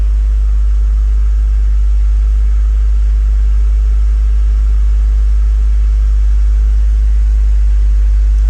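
The engine of a 1999 Volkswagen Cabrio holds a steady 1300 RPM, giving a constant low hum and rumble with no change in pitch.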